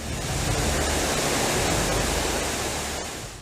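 A 144-metre waterfall, Cachoeira da Fumaça, thundering as a dense, loud, continuous roar of falling water that fades slightly at the end, with no voices.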